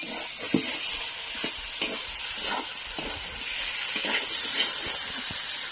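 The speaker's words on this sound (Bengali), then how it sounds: "এবার এই সময় যতটা কষাতে থাকবো তত তরকারিটা খেতে ভালো হবে।" Vegetarian green jackfruit and paneer curry being sautéed in a pan, with a soft continuous sizzle broken by repeated scraping stirs of a spoon against the pan, close by.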